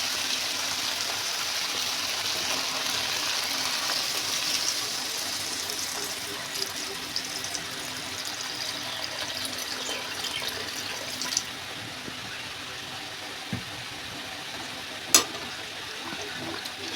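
Water runs in a steady pour into a cooking pot of sautéed potatoes and pumpkin stems, a continuous splashing hiss that gradually shifts in tone as the pot fills, ending with a couple of sharp metallic knocks.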